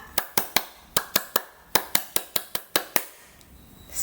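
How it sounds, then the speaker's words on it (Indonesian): Pramuka scout clap pattern performed as a series of about fourteen sharp, crisp claps in a brisk rhythm with small groupings, clear and close, followed by near silence. "Tepuk pramuka."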